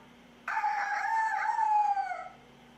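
A single rooster crows once, close and clear, a drawn-out call of about two seconds that rises then trails off, with quiet before and after.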